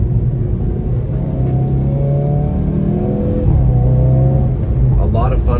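The engine of a 2021 Hyundai Veloster N hot hatch hums and rises in pitch as it revs, with a steady engine tone rising and falling under a nearby voice.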